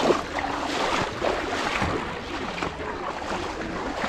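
Clear water flows steadily outdoors, a continuous rushing wash with a breezy, wind-like hiss and no distinct events.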